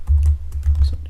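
Fingers type code on a computer keyboard in quick, close bursts of clicking keys, with a steady low hum behind and no voices.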